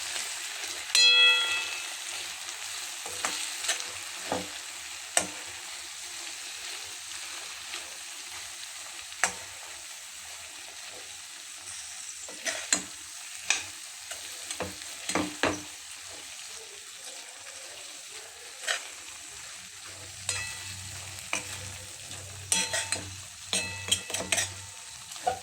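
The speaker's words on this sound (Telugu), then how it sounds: "చూడండి, ఇలా మొత్తం కలుపుకోవాలి. బాండీకి ఏం అంటుకోకుండా కలపాలి." Tamarind and tomato pickle mixture stirred in a pan over steady frying sizzle, with scattered spoon scrapes and clicks against the metal throughout and a low rumble joining toward the end.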